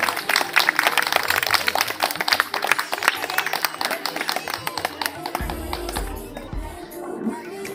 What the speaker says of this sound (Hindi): तो उनके लिए जोरदार तालियां